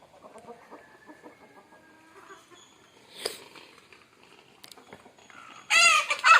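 Native country chickens cluck in an irregular scatter of soft, nearby calls at midday feeding time, with brief bumps of handling noise and a louder, dense burst of squawking near the end.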